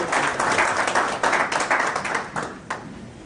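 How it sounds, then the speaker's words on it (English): An audience at a formal induction and investiture ceremony in the USA gives a round of applause for a coordinator. Close, dense clapping comes in uneven surges, then thins out toward the end. "Let's give her also a round of applause."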